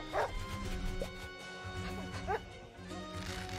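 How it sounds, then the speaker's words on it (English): A dog in the Wargroove strategy video game gives a few short barks and yips, spaced apart at moderate volume, over game music with no talking. "Dog in a forest, eh?"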